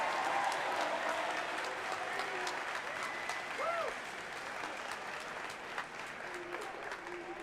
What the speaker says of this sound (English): So give them a round of applause for making this happen.